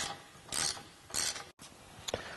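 A ratchet with half-inch sockets tightens rubber parts on a Jeep JL rear bumper with tire carrier. Two short bursts of rapid clicking are followed by a brief pause and a final faint click, all close.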